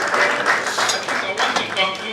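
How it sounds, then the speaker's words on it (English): An audience at a public-health address on COVID-19 lab work and isolation centres gives a steady round of applause, dense overlapping claps sustained at even loudness throughout. "may we give them a good round of applause."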